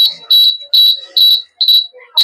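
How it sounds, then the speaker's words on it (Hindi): A school science project earthquake detector sounds its alarm: five loud, shrill electronic beeps in an even on-off rhythm, each about a quarter second long, close to the microphone. "अलार्म टा बाजिब"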